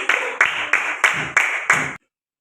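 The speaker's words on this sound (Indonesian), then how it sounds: "Tepuk tangan semuanya." A group of children clap in unison, six sharp, evenly spaced beats close by, then silence.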